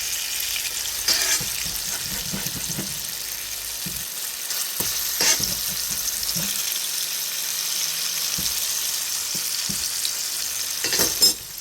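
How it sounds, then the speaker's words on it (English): Chickpea tofu fries in a pan over medium-high heat with a constant crackling sizzle, broken by several clinks and scrapes of a spoon stirring it, and no one talking. "So I have it on like medium high cooking right now. Frying up nicely, smells nutty."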